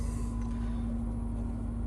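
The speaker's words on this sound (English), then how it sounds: "The engine is running." A Jaguar XE car engine idles steadily with a constant low hum and an even drone, heard up close with no talking.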